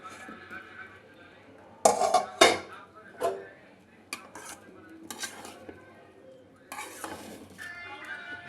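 Rice being stirred in a kadhai, with sharp metal clanks and scrapes of a spoon against the pan arriving in bursts, close and fairly loud over a faint low hum.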